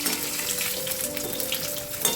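Mushrooms fry steadily in hot oil for a mushroom chilli starter, a dense continuous sizzle with faint crackles and a sharper pop near the end, close and alone with no talk.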